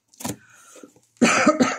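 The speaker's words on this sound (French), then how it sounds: "je tousse encore, pardon" A woman with a cold coughs twice, a short cough followed by a louder, harsher burst close to the microphone.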